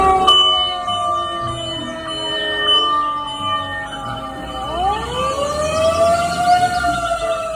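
A toy fire truck sounds its electronic siren, a loud, steady wail with a rising sweep midway and bright ringing overtones, heard close and on its own.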